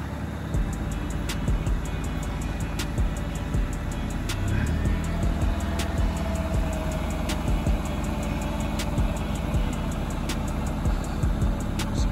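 A vehicle engine with a fuel line that has not been bled runs steadily after starting, a low continuous rumble with regular ticking clicks across the whole stretch, close and fairly loud, with no voices.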